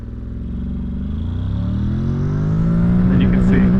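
A 2023 Honda NC750X DCT motorcycle accelerating in manual mode, its engine note rising steadily in pitch and loudness over a few seconds, close and continuous with wind rumble underneath.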